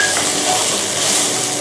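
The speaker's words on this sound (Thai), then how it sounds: "ผัดเครื่องต่างๆนะคะให้เข้ากัน" Thai curry paste with fingerroot, green peppercorns and red chillies being stir-fried in a pan, a dense continuous sizzle with faint scraping, brief and heard alone.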